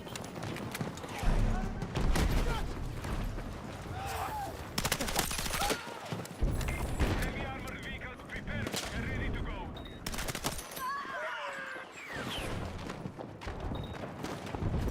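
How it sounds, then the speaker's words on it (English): Automated turret firing in Battlefield 6, a loud rattling burst of rapid shots mixed with other battlefield gunfire and impacts, near and sustained, with someone talking over it. "Automated turret."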